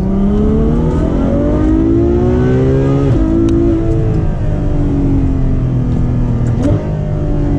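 A Ferrari F12 at full throttle roars loudly and close, its engine note climbing steadily in pitch and briefly dropping at two gear shifts before rising again.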